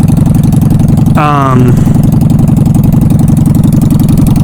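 A Honda Shadow motorcycle engine running with a steady, loud, close low throb, a rising whine briefly cutting in, and a voice talking over the engine.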